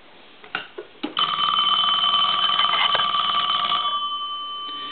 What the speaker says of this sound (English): I'm going to ring the phone here real quick.